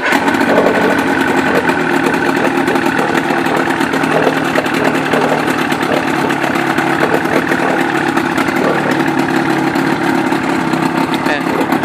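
A 1983 Johnson 35HP outboard motor runs on a 12-foot fibreglass boat, a loud, steady mid-pitched engine drone that continues unbroken throughout, with voices speaking over it.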